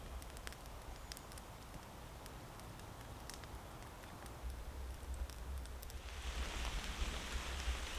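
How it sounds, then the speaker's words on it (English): Rain falls on a wild camp in trees above a North Sea beach: a faint, steady patter with scattered soft ticks that swells into a denser, louder wash toward the end. "It's raining."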